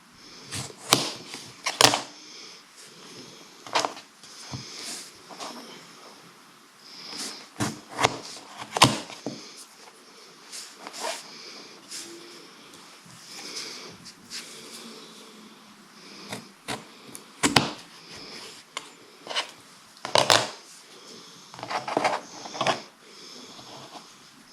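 A knife cuts up seed potatoes, with short sharp slicing and scraping strokes at irregular intervals, close and fairly quiet, with brief pauses between cuts.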